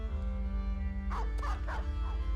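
A dog barks several times in quick succession within the Battle Brothers video game, mid-distance over a steady low game hum and music bed.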